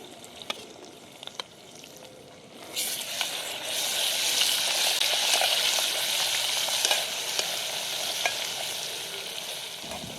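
Ground onion-tomato paste drops into hot oil with ginger and garlic, and a quiet stretch with a few clicks gives way to a loud, sustained sizzle and crackle that continues close by.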